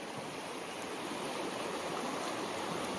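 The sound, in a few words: flowing trout stream water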